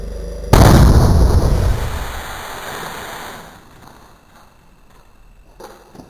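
A booming explosion effect for the Big Bang hits suddenly with a deep, loud blast, then rolls into a long rumbling decay that fades over several seconds into near quiet.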